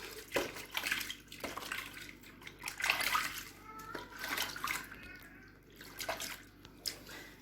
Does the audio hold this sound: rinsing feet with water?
yes